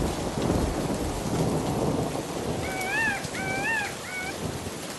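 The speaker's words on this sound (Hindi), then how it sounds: "बारिश शुरू हो जाती है। बादल गरज रहे हैं।" Steady rain pours down in a stormy forest while low thunder rumbles underneath, with a few high bird-like whistles rising over the downpour near the end.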